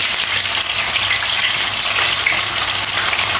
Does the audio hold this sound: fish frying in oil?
yes